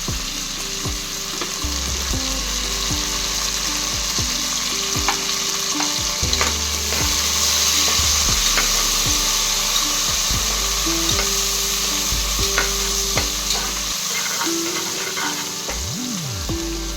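Coriander leaves and curry leaves fry in a pan for a venpongal dish, with a loud, continuous close sizzle. Stirring scrapes and clicks come through now and then, and there is no talk.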